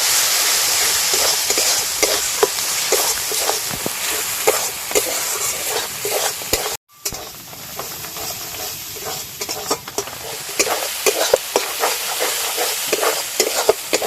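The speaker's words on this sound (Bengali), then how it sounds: "এবার সব কিছু মশলা খুব ভালো করে কষে নেব" Spice paste of cumin, chilli and turmeric for a Bengali shol fish curry sautés in a loud, constant frying hiss, with repeated stirring scrapes throughout and a brief pause midway.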